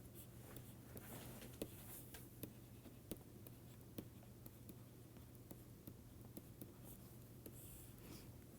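Chalk or pen strokes during a mathematics lecture, a light scratchy patter of short taps and scrapes with a low steady hum beneath, no speech.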